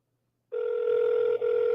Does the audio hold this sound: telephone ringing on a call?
yes